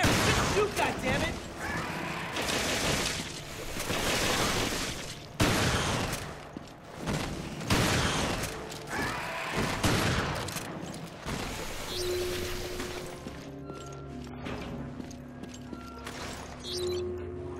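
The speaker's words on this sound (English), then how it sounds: "Just shoot, goddammit!" Gunfire from the video game Resident Evil Revelations crackles in repeated loud bursts and volleys, with a voice speaking over the shooting in places before tones and softer game sounds take over near the end.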